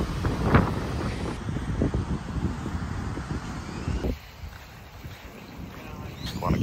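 Strong breeze gusts across the microphone at a beachside resort in Guanacaste, Costa Rica, a steady rushing roar that eases toward the end before picking up again.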